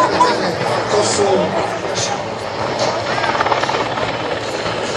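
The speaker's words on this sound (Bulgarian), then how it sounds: "в момента наблюдавате отлитането на двата вертолета" Two Mi-17 military helicopters take off at an air show in Sofia, their rotor and engine noise a steady loud drone heard over the chatter of a nearby crowd.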